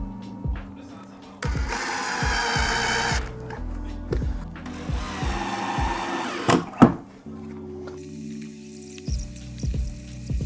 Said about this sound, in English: Just using these GRK cabinet screws and then screwing straight through the rope like this to attach the ends.